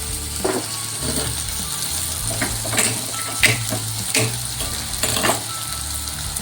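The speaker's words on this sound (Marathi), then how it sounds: "बघा आपला हा टोमॅटो पण फ्राय झालेला आहे याच्यामध्ये" Tomato frying in a pan with spices for a Marathi vegetable dish, heard as a steady close sizzle with scattered scraping and clicking taps of a spoon against the pan.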